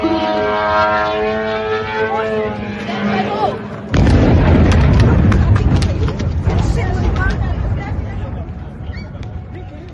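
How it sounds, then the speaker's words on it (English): A drone strike on the U.S. embassy in Dubai: a whining, engine-like drone tone gives way to a sudden loud, rough burst of blast noise and clatter, with people talking and shouting throughout. "This is the moment when a drone from Iran hit that U.S. embassy in Dubai."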